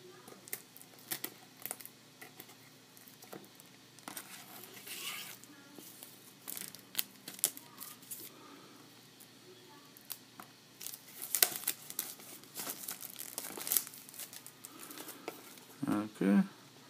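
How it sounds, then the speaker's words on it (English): Packaging crinkled and torn open while unboxing a new item, scattered close rustling, crackling and tearing bursts with brief quiet gaps and a sharper rustle near the end. "Go ahead and unbox this thing."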